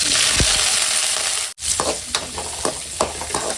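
Spices, onion, ginger, garlic and coconut frying in hot oil, with a steady sizzle broken by several sharp stirring scrapes and clinks of a utensil against the pan, close and fairly loud.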